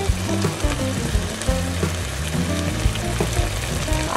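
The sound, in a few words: passata added to a hot pan, sizzling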